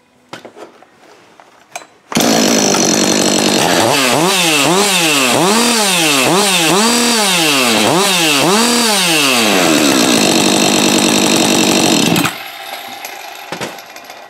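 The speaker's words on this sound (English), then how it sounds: "that's a very healthy sounding saw" A Husqvarna 562xp chainsaw engine roars at steady full throttle for about ten seconds, revving up and down in repeated surges before cutting off, loud and close.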